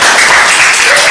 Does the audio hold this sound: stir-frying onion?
no